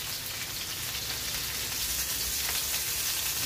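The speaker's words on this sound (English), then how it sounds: "Right, now our fish are frying." Salmon fillets pan-frying in a skillet, giving a steady, dense sizzle and crackle throughout, close and fairly loud with no voices.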